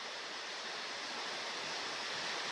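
Steady rainfall after two days of nonstop downpour, a dense, even hiss with no breaks and no voices, moderately quiet throughout.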